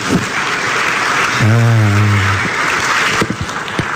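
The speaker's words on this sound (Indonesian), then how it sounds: "sekali lagi berikan tepuk tangan yang meriah" Steady applause from an audience at an Indonesian religious talk about Jesus and the Trinity fills the whole stretch, with a voice briefly speaking over it partway through.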